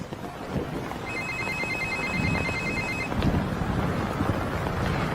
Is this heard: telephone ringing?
yes